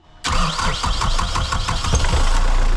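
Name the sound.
boat diesel engine starting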